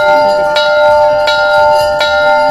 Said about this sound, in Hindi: घंटी सुन के काफ़ी अच्छा सुखद अनुभव होता है।